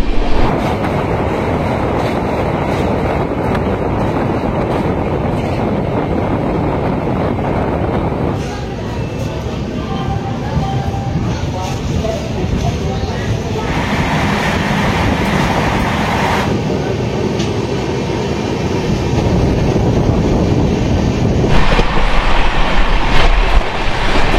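Passenger train running from Howrah to Ghatshila, heard from inside the carriage as a loud continuous rumble and rattle with shifting tone, growing heavier toward the end.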